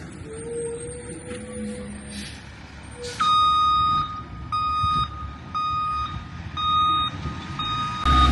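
A dump truck backs up with its reversing alarm sounding a steady series of loud electronic beeps at a regular rhythm, over engine rumble and outdoor background noise, with birds chirping faintly before the beeps start.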